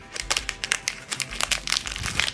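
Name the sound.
plastic bag crinkling as a double-bagged item is unwrapped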